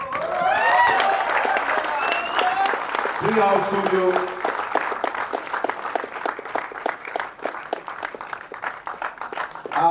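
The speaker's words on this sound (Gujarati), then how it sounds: "બેકગ્રાઉન્ડ સ્કોર માટે હું તાળીઓ માંગીશ દર્શન શાહ" Sustained crowd applause fills the hall at a Gujarati film premiere in Ahmedabad, loud and steady then tapering slightly, while someone speaks over it at the beginning.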